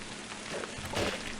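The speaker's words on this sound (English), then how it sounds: "It's just rain in the background, by the way." Steady rain falls in the background of the video game GENKI, a continuous soft patter and hiss with no talking over it.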